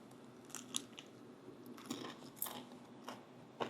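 Someone crunches and bites on freeze-dried meat pieces, giving quiet, crisp crackling bites and chewing close to the mic, with scattered small clicks over a steady low background hum.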